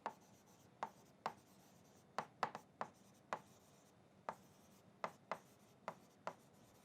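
Marker or chalk writing on a board during a physics lesson, a steady run of short tapping strokes at irregular intervals, faint and close with no talking.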